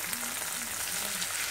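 Ackee and saltfish frying in a home kitchen pan, a steady soft sizzle that holds evenly throughout, with faint low murmurs beneath.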